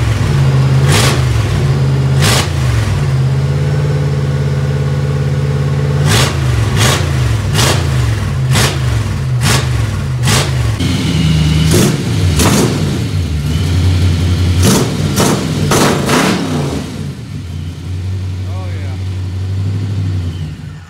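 A 1955 Chevy V8 fitted with Magnaflow mufflers, idling with a deep burble and revved in repeated sharp bursts close to the microphone, loud, with a few spoken voices in the background.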